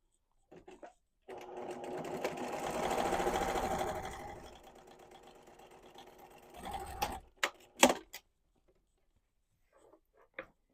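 A sewing machine stitches a sleeve onto a dress bodice, running in one long steady burst that swells and eases over several seconds, then short stop-start stitching bursts and a few clicks before falling quiet.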